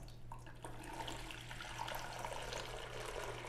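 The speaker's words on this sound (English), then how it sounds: "we're going to pour off the water out of the bag just like we did with the fish" Water is poured from a bag into an aquarium, making a soft continuous trickling and splashing, faint and steady throughout.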